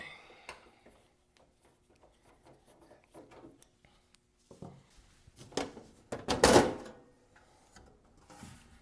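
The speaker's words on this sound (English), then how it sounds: "Seven screws total. Get the case off." Screws being removed from the case of a Kenwood KR-V990D receiver, heard as faint scattered metallic scrapes and rubbing, followed by a louder grinding, rasping burst as the case is worked loose.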